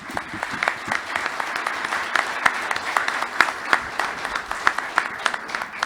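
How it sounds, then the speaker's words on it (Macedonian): An audience at a public panel discussion breaks into dense, sustained clapping, many hands slapping at once, steady and fairly close for the whole stretch. "Би посакал да даеме еден огромен аплауз за Дејан Гаровски Гавра"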